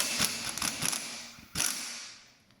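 Half-inch impact gun loosening front strut bolts on a Hyundai Elantra, giving rapid rattling hammer bursts in short clusters with a pause and a final burst, close and moderately loud, no talking.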